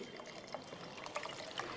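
Water poured onto small shallots and garlic while cooking, a brief close splashing trickle with a few soft drips and no talk.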